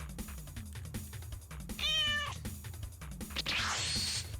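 A cat in the space video game Flesh Ship meows twice, clear and close, over a steady low synth music bed.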